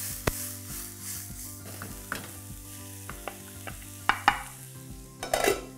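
Mushrooms and mixed vegetables for hot and sour veg soup sizzling in a pan, a steady frying hiss punctuated by sharp scrapes and clanks of a spoon stirring against the metal, without talk.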